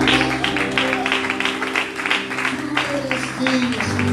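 Church congregation gives a strong round of applause, rhythmic clapping heard alongside sustained organ-like chords and voices during a worship service.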